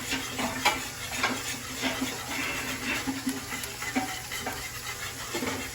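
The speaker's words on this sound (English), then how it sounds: "Whisk that around some more." A whisk scrapes steadily around a pan of brown gravy on the stove, soft rhythmic stirring strokes over a faint background hiss, close and fairly quiet, with no talking.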